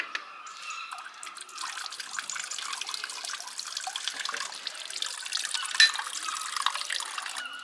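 A drinking-water tap runs at Mont Saint Michel, a steady trickling stream splashing continuously at close range with faint dripping detail and no voices.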